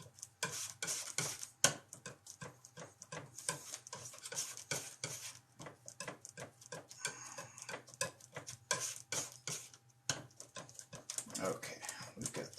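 Brush stirring and mixing oil paint on a palette during a live painting session, a steady run of short scraping, tapping strokes and soft clinks, close and fairly quiet with brief pauses.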